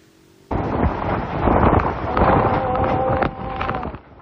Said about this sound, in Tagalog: Ganito na ang hangin at ulang bumayo sa Roxas Oriental Mindoro ilang sandali bago ang landfall ng bagyong Opong sa probinsya.